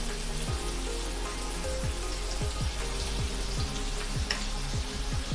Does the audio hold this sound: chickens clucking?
no